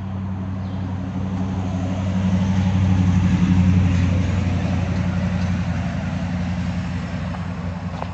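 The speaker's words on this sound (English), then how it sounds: "these cars come flying through here and it's so loud" Cars passing on a road near an Appalachian Trail stop, a loud, steady engine and tyre rumble that swells as a vehicle goes by in the middle and then eases off, with no talk.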